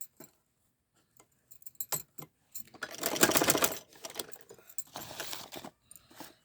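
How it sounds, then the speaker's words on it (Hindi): A sewing machine stitching the last strip onto a trouser hem, with short bursts of rapid mechanical clatter separated by pauses and one longer, louder run in the middle, heard close with no talking. "ये देखिए, ये लास्ट की पट्टी की सिलाई मैंने लगा दी है।"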